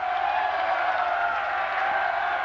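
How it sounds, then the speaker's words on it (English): A crowd at a high school boys basketball game in Biddeford chanting, heard as a steady, loud, unbroken roar of many voices filling the gym. "the crowd's letting them know it too with the handball chant"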